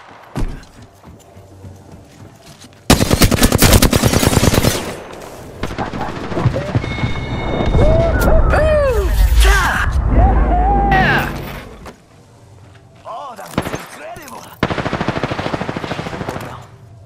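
Video game shooter gunfire in a battle-royale style match, with loud rapid automatic bursts, single shots and impacts, under brief in-game voice effects and tones, in dense repeated volleys.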